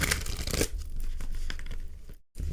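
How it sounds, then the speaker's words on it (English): Thick tarot cards with a rose-petal finish being shuffled by hand, a loud dense riffling rush that runs steadily for about two seconds, then stops with a brief silence before a little more card noise. "One more shuffle, okay?"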